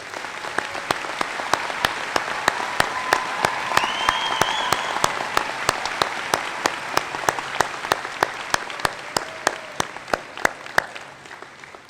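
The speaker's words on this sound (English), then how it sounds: "I invite the audience to join me in a round of applause for the greatest faculty in the Florida college system" Sustained audience applause at a Florida college spring commencement for the State College of Florida, Manatee-Sarasota faculty, a steady dense clapping crowd lasting throughout with a gradual fade near the end.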